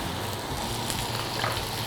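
Steady loud sizzling of shrimp stir-frying in a hot wok, with faint scraping of stirring, continuous and close.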